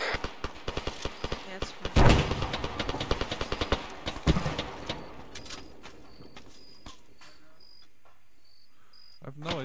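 Gunfire in the military shooter Arma 3: scattered sharp shots crack in an irregular burst, loudest around the two-second mark, then thin out over a steady insect-like chirping backdrop with faint voices.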